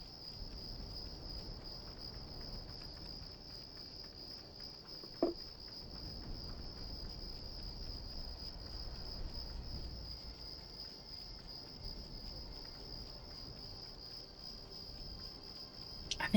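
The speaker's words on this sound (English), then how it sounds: "Thank you, crickets." Crickets chirp steadily in a video game, a constant high-pitched trill held at a soft level throughout with a faint, quiet background beneath it.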